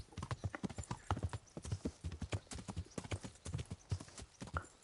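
Horse hooves clip-clop in a steady, fairly close rhythm of sharp, regular beats while riding in the medieval game Kingdom Come: Deliverance, with no talk over them.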